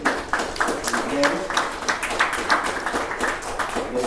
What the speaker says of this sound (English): Please round of applause for supporting me again